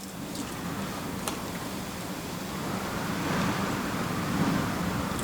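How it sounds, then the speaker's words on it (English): Steady outdoor wind blows as a broad, continuous rushing noise with low rumble, swelling slightly in the second half, with faint ticks and distant road noise; no one speaks. "I don't know if you can hear the wind in the background, but it's still blowing quite a bit."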